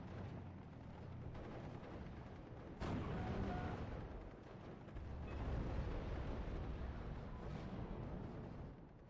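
Tank main gun firing in Steel Division: Normandy 44, a sharp heavy boom near the three-second mark followed by a long rumbling wash of distant battlefield explosions and artillery.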